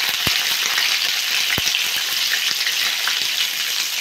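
Pointed gourd (potol) sizzles steadily as it fries in a pan with salt and turmeric, a dense, even crackle that runs throughout with a couple of sharp pops near the start.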